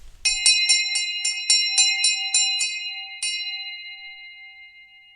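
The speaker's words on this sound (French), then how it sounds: "la cloche a retenti" A bright metallic school bell sounds a quick run of about nine ringing strikes, then one final stroke, and the overlapping tones fade out slowly. The bell is close and loud, with no voices.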